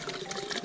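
Water pouring and trickling into a bottle at a spring on a mountain trail, a short close gurgling rush of liquid.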